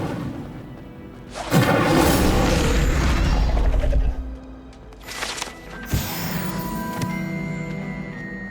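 Incendio fire spell cast in Hogwarts Legacy, a loud booming burst of flame that roars for a couple of seconds, then a second fiery whoosh with crackling and magical chiming tones trailing after.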